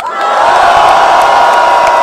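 Loud crowd at a Brazilian rap battle event cheering and whooping for a verse, a dense sustained roar with shouts rising above it, close and continuous.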